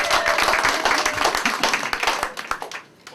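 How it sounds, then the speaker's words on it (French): Guests at a French wedding ceremony clap together in a lively, close burst of applause that thins into scattered claps and dies away at the end. "Applaudissez-vous."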